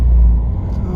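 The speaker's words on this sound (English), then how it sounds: "Growled a bit in first gear. I don't know that I like that. Sounds like lay shaft bearings going on this" A car's gearbox gives a low, steady growl in first gear, a sign of worn layshaft bearings, heard close up as a loud rumble inside the car for about a second.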